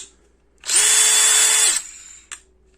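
A Craftsman CMCD720D2 cordless brushless drill whirs at steady high speed for about a second, close and loud, then winds down, followed by a brief click.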